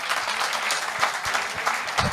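An audience at a comedy poetry show claps briskly in a brief burst of applause, with close individual hand slaps standing out over the steady crowd clatter.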